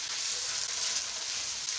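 Steady, hissing sizzle of food frying in a pan until light golden, a continuous crackling spatter at moderate level with no one speaking.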